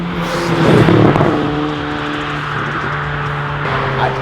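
A Volkswagen MK7 GTI engine revs and holds at a steady, loud drone with a throaty exhaust tone, swelling briefly early on, no voices.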